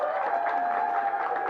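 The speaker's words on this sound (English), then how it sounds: "Everybody, give Ava a big round of applause." An audience at a Halloween safety press conference at a school claps for a child who gave an introduction, producing a dense, steady round of applause that fills the whole short moment.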